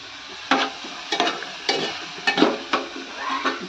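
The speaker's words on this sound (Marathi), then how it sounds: "कांदा जरा भाजू दे चांगला" Chopped onion fries in a pan with a constant sizzle, broken by about six quick, regular scrapes as it is stirred.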